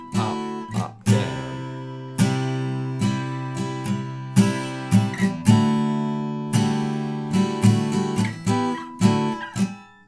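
Slow guitar strumming of the verse chords from a song rings out clearly, with uneven down and up strokes in short bursts and brief pauses between chords.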